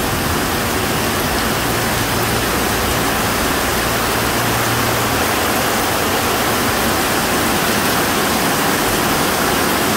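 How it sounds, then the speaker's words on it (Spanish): Heavy rain pouring down in Chalatenango, El Salvador: a loud, dense, unbroken hiss of downpour fills the whole stretch, with a low hum briefly underneath. "Se vino el agua, señores."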